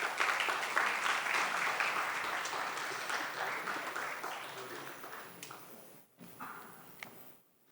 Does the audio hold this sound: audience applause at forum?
yes